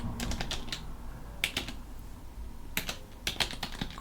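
Computer keyboard typing with irregular bursts of quick keystrokes separated by short pauses, close and fairly quiet against a low steady hum, no talk.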